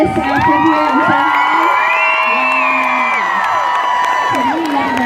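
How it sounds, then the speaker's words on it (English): At a Halloween pumpkin lighting, a crowd cheers loudly with whoops and children shouting, a sustained burst of excited voices close by with some clapping mixed in. "Speaking of Debbie Reynolds, let's all give her a big round of applause"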